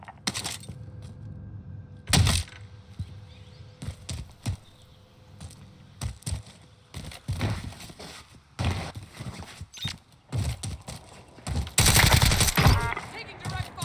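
Gunfire in the Warzone video game comes in scattered bursts and single sharp shots, some near and loud, others farther off, with a voice talking in between.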